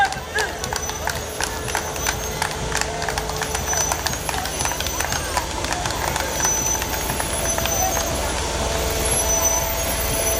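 Armored military vehicles of a mechanized column, including a radio command vehicle and gun-mounted section vehicles, rumble past continuously in an Armed Forces Day parade in Mbombela, with a steady low engine drone, scattered clanks and crowd noise throughout.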